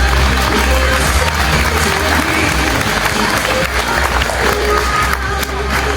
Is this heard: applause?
yes